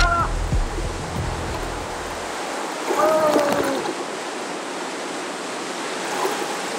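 Water rushing into a flooded basement, a loud continuous broadband rush with a low rumble fading early, plus faint splashing and knocks.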